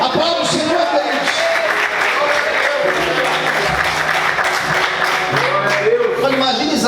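Church congregation applauding after a sermon, a steady wash of clapping throughout with voices mixed in underneath.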